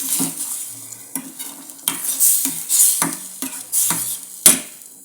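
A spoon scrapes and clinks repeatedly against a pan as chole and potato curry is stirred while it heats, with a soft sizzle under the rhythmic stirring strokes.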